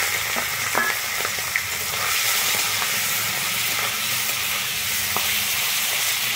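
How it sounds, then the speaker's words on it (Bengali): Shrimp coated in salt and turmeric fry in hot mustard oil, giving a steady, loud sizzle with small pops and crackles throughout and no talking. "আমি চিংড়ি মাছটা এবারে তেলের উপরে দিয়ে দিচ্ছি।"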